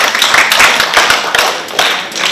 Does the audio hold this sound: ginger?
no